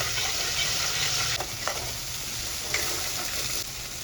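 Hot oil sizzles steadily as a paste of poppy seed, onion, ginger and garlic fries in a pan, a continuous close hiss with a few soft scrapes of stirring and no voices.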